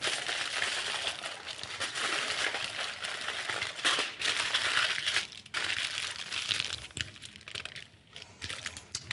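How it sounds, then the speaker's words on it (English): Tin foil crinkles and crumples close by as it is wrapped around a sample bottle, giving a steady crackling rustle with brief pauses and a few sharper crinkles. "I'm going to wrap the sample bottle in tin foil to block out all"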